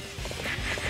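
Horse galloping in Dynasty Warriors 8 Empires, a quick run of rhythmic hoofbeats over steady game background noise, brief and fairly faint.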